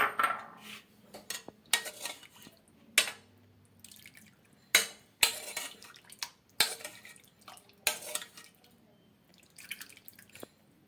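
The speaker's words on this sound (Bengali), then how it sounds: "এখন স্যুপটাকে আমি বেড়ে নিচ্ছি একটা বাটিতে" Chicken soup ladled into a bowl in a home kitchen, with a run of sharp clinks and knocks of utensils against dishes, dripping and splashing liquid between, close and fairly loud, no talking.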